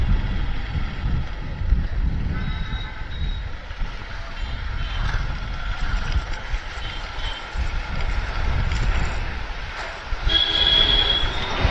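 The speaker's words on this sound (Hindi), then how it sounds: "सामने ट्रेन जा रही है भाई" A train rolls past in front amid heavy wind rumble from riding a motorbike through Asansol near the Damodar River, giving a continuous loud clattering roar that swells toward the end.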